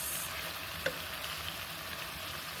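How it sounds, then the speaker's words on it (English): Steak frying in butter in a pan, a continuous moderate sizzle with one brief clink of a utensil early on, no talking. "I gotta throw some butter in there for my steak"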